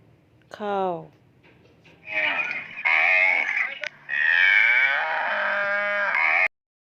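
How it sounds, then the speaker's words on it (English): A cow moos in long, loud drawn-out calls, two main bellows back to back, following a brief spoken word at the start. "Cow."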